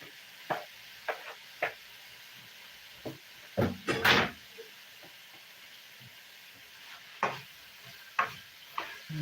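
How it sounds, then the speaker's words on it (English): Peppers and onions get stirred into sizzling meat in a pan for a zucchini stew, with a faint steady sizzle broken by scattered spoon scrapes and clatters, one louder cluster partway through. "So now I'm gonna add the peppers and the onions into this meat."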